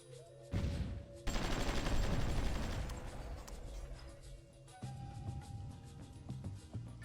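Tank attack in the strategy game Supreme Ruler Ultimate: dense bursts of gunfire and artillery-like blasts roll in after a steady low drone, loudest mid-way, then ease to scattered shots over lingering background tones.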